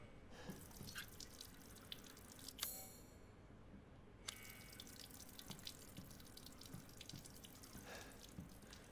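Water running from a sink faucet in Resident Evil Village, a quiet steady trickle with drips and small splashes, faint and close, with no talking.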